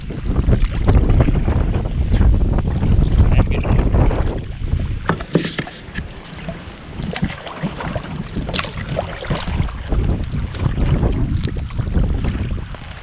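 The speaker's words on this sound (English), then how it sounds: "It's just so windy, cold." Strong wind buffets the microphone in loud, gusty rumbles during a spring whiteout in Vermont, with water sloshing against a small Hornbeck boat and faint knocks underneath throughout.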